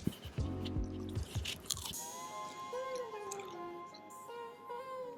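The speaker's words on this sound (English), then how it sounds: "definitely crunch there with them" Crunchy homemade chips cooked in a Tefal ActiFry multicooker being bitten and chewed up close, a few crisp crunches in the first two seconds, then softer chewing under quiet background tones.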